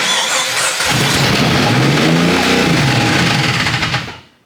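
Worn-out Jeep engine cranking and catching, a loud rough roar that swells into a revving surge, then cuts off abruptly near the end.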